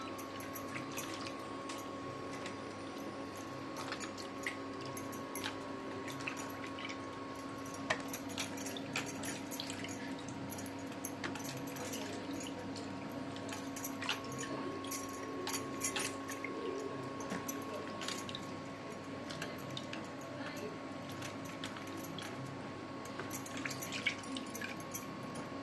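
Mushrooms rinsed in a little water in a kitchen, giving soft, quiet dripping and sloshing that runs steadily with no talking.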